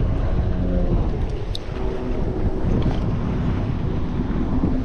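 Steady wind buffets the microphone on the shore of a Colorado reservoir during bass fishing, a constant loud rumble with faint water lapping beneath, no talk.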